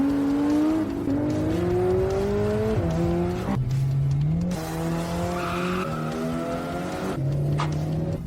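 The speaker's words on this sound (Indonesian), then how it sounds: "Bagaimana mobil jelek ini bisa melaju sekencang itu?" A race car speeding hard in a championship race, its engine note climbing and shifting through gears with tire squeal and skidding, loud and close throughout.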